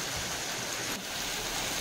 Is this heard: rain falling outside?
yes